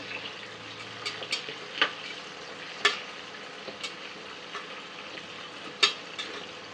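Chopped onions fry in a pan for a simple vegetable pulao, a quiet steady sizzle broken by a few sharp scraping stirs at irregular intervals.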